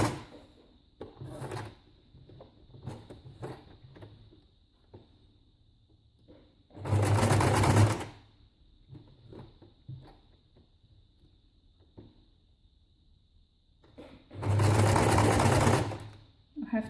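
A sewing machine stitches with brown cotton thread in two loud, close bursts about a second long, separated by quiet handling of paper and fabric, with someone speaking softly now and then.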